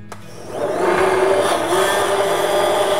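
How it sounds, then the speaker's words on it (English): An immersion blender whirring in a container of plant-based mayonnaise made with avocado oil, switching on and ramping up to a steady, close, loud drone with no talk. "I am gonna take the immersion blender and put it in here"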